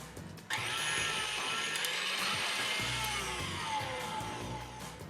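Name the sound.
electric mixer whisking egg whites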